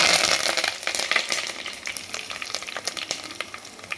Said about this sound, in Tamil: இப்போ தாளிப்போம். கடுகு, கருவேப்பிலை, ஒரு பட்டை மிளகாய்,